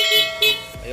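Newly installed compact car horn sounding in two short honks during a test, close and loud, with a voice briefly audible near the end.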